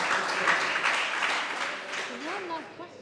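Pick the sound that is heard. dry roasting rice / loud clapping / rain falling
loud clapping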